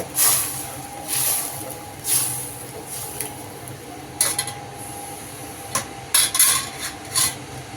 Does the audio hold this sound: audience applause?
no